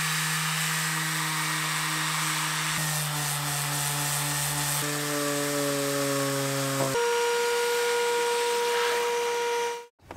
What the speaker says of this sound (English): I'm just sanding that so it's not shiny anymore